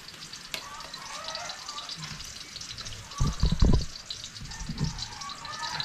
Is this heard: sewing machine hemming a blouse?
no